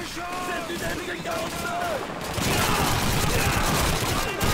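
Bursts of British Sten submachine gun fire in the Call of Duty 2 video game, dense rapid shots that grow louder and more continuous halfway through, with a voice talking underneath.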